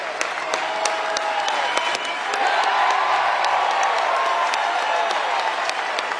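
Oklahoma State fans at a 2019 NCAA baseball regional in Oklahoma City rise and cheer, a loud, sustained roar of applause and whoops with scattered sharp claps throughout.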